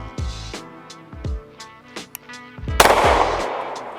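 Several sharp gunshots from a gun fitted with a red dot sight at a target range, each shot close and loud with a fast decaying report, spaced irregularly over a few seconds.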